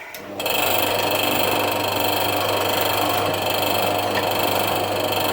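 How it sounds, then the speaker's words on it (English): A power drill drilling a lid whirs continuously at close range, starting abruptly after a brief moment and holding a steady high-pitched buzz without pause. "I'll just drill this lid"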